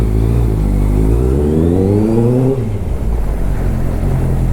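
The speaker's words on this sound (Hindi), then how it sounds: "ऑलमोस्ट वार्म अप अपनी बाइक का हो गया है।" A Honda CBR650 motorcycle engine revving during warm-up with a loud exhaust, a deep idle rising through one smooth rev that climbs and then falls back to a steady rumble, close and loud.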